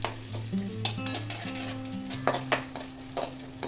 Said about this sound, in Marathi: तूप व्यवस्थित तापल्यानंतर डिंक तळून घ्यायचं आहे